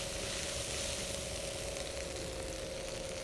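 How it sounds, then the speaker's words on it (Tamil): Ginger and garlic sautéing in a pan for prawn masala, a steady, even sizzle with a faint background hum, continuous and unbroken throughout. "நல்லா வதக்கிடுங்க."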